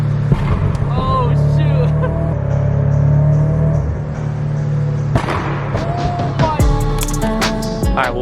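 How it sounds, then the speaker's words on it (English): A Scion FR-S in a tunnel in downtown Phoenix, its engine droning and echoing loudly with sharp cracking exhaust pops near the end, while people talk and exclaim over it. "I'm gonna go through it right now, try to make some pops."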